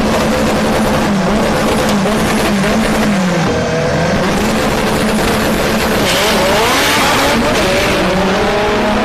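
A Honda CRX no-prep drag race car launches down the strip at Orlando Speed World, a loud sustained engine roar with rising and falling revs and tire noise, close and dominant.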